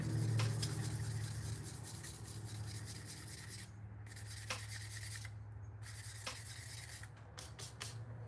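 Fine 1200-grit sandpaper rubbing over the finish of a tobacco pipe, a steady soft abrasive hiss close up with light scratchy strokes continuing throughout beneath a constant low hum.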